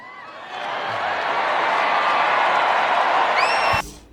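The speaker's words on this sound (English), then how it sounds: "That cheer right there" A large crowd roars with cheers and applause that swell quickly and hold loud and steady for about three seconds before cutting off abruptly, with scattered whoops rising above the din.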